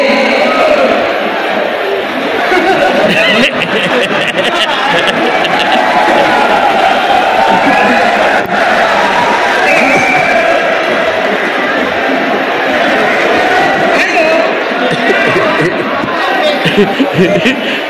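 A large crowd cheering and clapping at a gathering, a loud, dense roar of voices and applause sustained throughout, with shouts rising above the babble.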